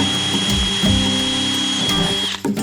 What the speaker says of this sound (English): this is the most harrowing part of the entire project, where we're actually drilling hole.